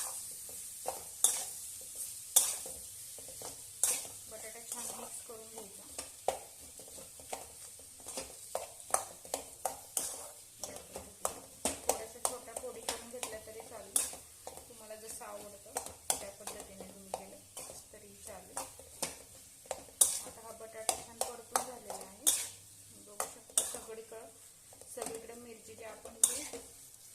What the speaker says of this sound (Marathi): बटाटा छान मिक्स करून घ्यायचा